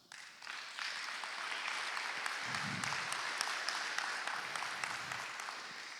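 A church congregation applauds during a Spanish-language sermon, a steady, sustained wash of clapping held at moderate level throughout, distant and reverberant.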